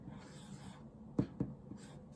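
A pen or marker quickly crossing something off on paper during a lesson, two short close scratchy strokes followed by a faint third, in a quiet room.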